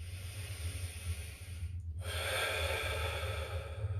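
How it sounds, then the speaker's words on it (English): Deep breath drawn in during a static stretching routine done with a stick or pole, a soft airy inhale over steady low background hum, with no talking. "Deep breath in."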